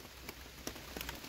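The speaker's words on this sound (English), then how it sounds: "Packing up in the rain." Steady rain falls on a wet West Coast campsite as gear is packed away, a faint, even hiss with a few soft drop taps scattered throughout and no voices.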